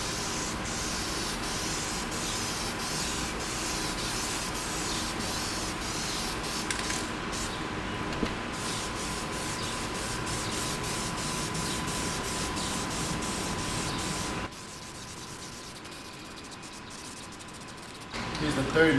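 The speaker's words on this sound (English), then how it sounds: "so I'm gonna spray some of this on it now." Steady hiss of an aerosol spray can running continuously, with a brief pause and a short final burst, close to the microphone, spraying a coat onto a BMW M50 engine part.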